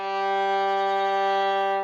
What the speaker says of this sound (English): So they should sound like this: open G